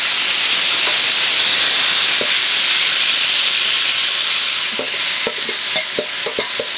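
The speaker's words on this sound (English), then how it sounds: "I'm just going to fry it up in this oil" Beef fries in a small amount of oil in a pan for a Guyanese-style soup, giving a loud, steady sizzle with scattered crackles and stirring clinks toward the end.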